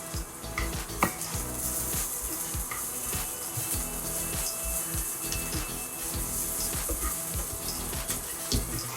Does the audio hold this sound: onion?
yes